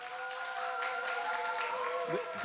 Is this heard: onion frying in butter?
no